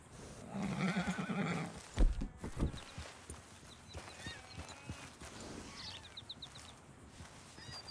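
A horse in Red Dead Redemption lets out a loud, drawn-out whinny near the start, followed by a few heavy hoof thuds and quieter shuffling, with faint bird calls later.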